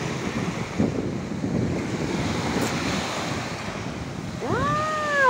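Sea waves break and wash on the shore in a loud continuous surf roar mixed with wind buffeting the microphone, and a short rising whistle-like tone sounds near the end.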